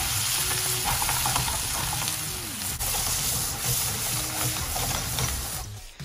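Chicken, sliced mushrooms and onion sizzle steadily in a pan, a loud continuous frying hiss with occasional stirring scrapes, no voices.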